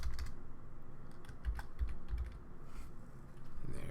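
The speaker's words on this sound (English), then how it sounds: "I'm going to backspace on here." Fingers tap a computer keyboard with soft, close clicks, a few separate keystrokes in an irregular rhythm, quiet and without talk.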